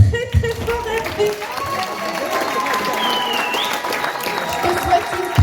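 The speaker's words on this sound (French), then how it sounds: "Donc, on applaudit très fort Hervé." Colleagues applaud a retiring worker at a workers' medal ceremony, a loud burst of clapping mixed with chatter and voices throughout.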